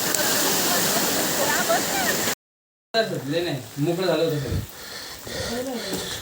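Loud rushing water from a waterfall at Torna Fort in monsoon rain roars steadily at first, then cuts out briefly before voices talk close by over a softer background wash.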